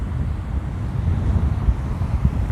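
Low rumbling Atlantic surf rolls in continuously on an Irish shore with the incoming tide, mixed with heavy wind buffeting the microphone, no talking.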